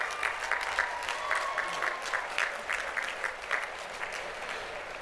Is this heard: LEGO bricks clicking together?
no